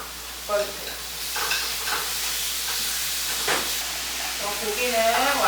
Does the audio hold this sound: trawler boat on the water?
no